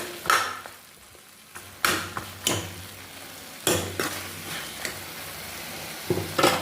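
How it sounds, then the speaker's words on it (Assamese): Green peas frying with spices in a pan, a soft steady sizzle broken by several sharp scrapes and clanks of a spoon stirring against the metal, close and alone. "এতিয়া মটৰখিনি সিজিবলৈ দিম মছলাৰ লগত মিহলি হওক মটৰখিনি"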